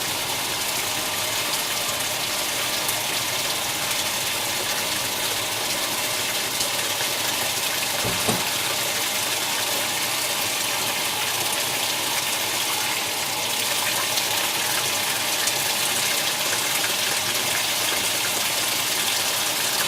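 A Speed Queen washing machine with a Series 9 conversion fills with water, giving a constant loud hissing gush with a faint pump-like drone underneath and one brief knock partway through, no voices.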